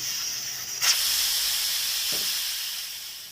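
Steam hisses steadily from a pressure cooker of mutton on the stove, a bright, continuous hiss with a sharp brief surge near the start and a faint clunk later.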